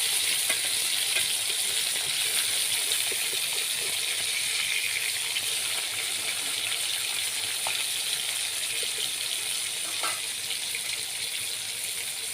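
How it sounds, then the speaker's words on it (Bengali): Pieces of rohu fish fry in a pan for a Bengali mustard curry, giving a steady, close sizzle that runs unbroken from start to end with no voices. "মাছের এক পিঠ ভাজা হয়ে গেছে,"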